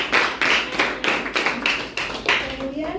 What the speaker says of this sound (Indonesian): beri tepuk tangan buat Nabila